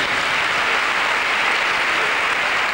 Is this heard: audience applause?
yes